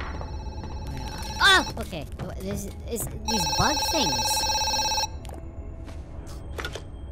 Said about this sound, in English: we're gonna answer the phone